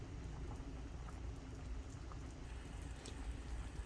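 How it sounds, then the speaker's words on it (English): Red curry tuna with coconut milk and vegetables simmering in a pot, giving a steady low bubbling and soft popping that runs continuously and evenly throughout. "simmering now to cook the coconut milk at saka yung mga veggies"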